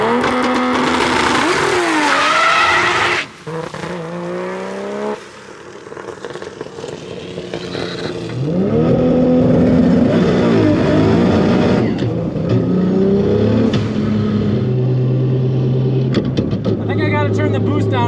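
Ford Mustang GT350 fitted with a Barra engine at the drag strip, revving hard and launching with tires spinning, a loud, near engine roar rising and falling in repeated surges, with a brief dip before climbing again to a sustained high wail.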